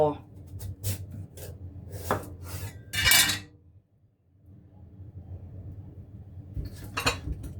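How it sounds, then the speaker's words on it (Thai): A knife knocks and scrapes against a cutting board while cutting papaya, in a handful of irregular strokes, with one louder scraping cut, then a brief quiet pause before more kitchen clatter. "จากนั้นเราก็จะมาหั่นมะละกอ"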